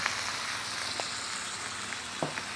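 A 20-ounce ribeye steak frying in a cast iron pan, an even close sizzle with a few faint clicks and taps of the utensil against the pan.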